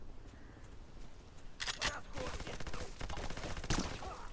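Gunfire in the Xbox shooter Black: several loud bursts of shots, one around the middle and another near the end, over a steady game background.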